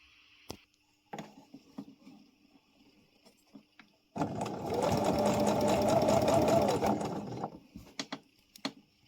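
Sewing machine stitching a fabric scrunchie, heard as a steady mechanical whirr of about four seconds after a few small clicks and handling noises, close and fairly quiet.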